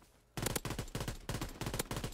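Automatic gunfire in the video game Call of Duty WWII, a sudden close, loud run of rapid shots fired in several short bursts with brief gaps between them.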